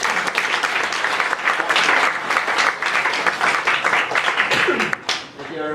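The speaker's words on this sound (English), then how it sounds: "give it up for Patrick" An audience applauds and cheers for the speaker Patrick at a live event: dense, loud crowd clapping that continues steadily, with voices calling out inside it, then thins toward the end.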